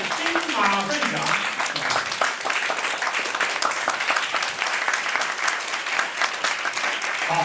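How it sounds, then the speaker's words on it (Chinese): An audience at an evening gathering in a café breaks into sustained, dense applause that stays loud and even throughout, with a voice heard faintly at the start. "所以请大家热烈掌声鼓励他。"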